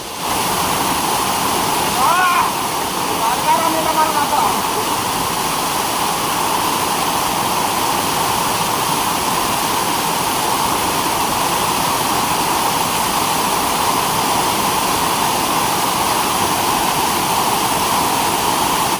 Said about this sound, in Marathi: मस्त धबधबा आहे बघा, जबरदस्त.